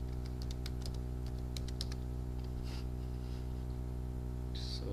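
Computer keyboard keys tapped in short, scattered bursts while filling in an online application form, faint over a steady electrical hum, with no talking.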